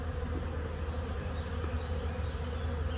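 Honey bee swarm buzzing around the hive, a dense continuous drone of many wings, steady and close with no voices.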